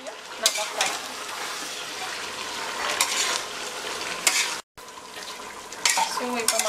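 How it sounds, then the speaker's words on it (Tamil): Mutton pieces fry in a pot for biryani, a loud close sizzle broken by repeated scraping stirs and metallic clinks of a spoon against the pot, with one brief dropout midway. "இப்போ மட்டன் போட்டாச்சு, மட்டன் நல்லா ஃப்ரை."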